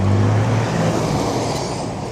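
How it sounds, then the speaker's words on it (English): A train running at a station in the Blue Mountains gives a steady, loud low rumble with an engine drone, holding constant throughout without any voices. "All right, so we're going to get on the train to Medlow Bath."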